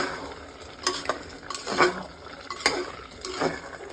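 Grated-free carrot halwa cooking in ghee in a pressure cooker pot, with a spoon scraping and stirring in several distinct strokes over a soft, steady frying crackle, close and moderately loud.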